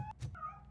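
A cat in the video game RoboCop: Rogue City lets out a short, faint meow with a rising then falling pitch, heard alone over low background ambience.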